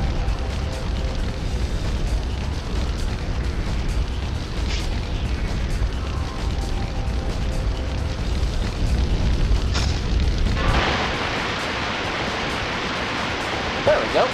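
Water gushes from an opened fire hydrant in the video game Spider-Man 2, a steady broadband rush under a noisy city scene that swells into a loud, bright spray near the end.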